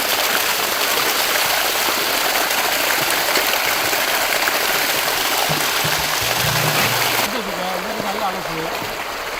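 Steady rush of running water while cloth pieces are rinsed, continuous and fairly loud throughout, with a brief voice and lower rumble near the end.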